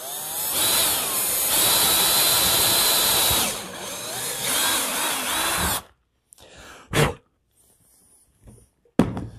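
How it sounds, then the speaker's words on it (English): A power drill with a quarter-inch bit whines steadily at close range for several seconds, briefly dips and resumes, then stops, followed by a few sharp clunks and taps. "let me get going with the drill"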